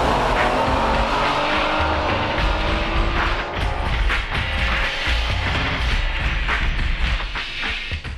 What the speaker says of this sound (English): Now let's see a time attack, uncut, using optional larger diameter tires at Suzuka circuit.